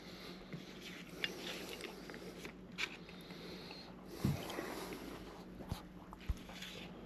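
Close, soft biting and chewing of a pear dessert with candied nuts, with moist, irregular crunches and mouth sounds over a steady low room hum.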